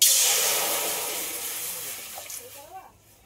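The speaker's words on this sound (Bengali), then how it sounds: "ডাল সিদ্ধর জন্য কড়াইতে জল দিয়ে দেবো" Water pours into a wok for boiling lentils, a loud broad splashing rush that gradually fades over a few seconds before a brief quieter tail.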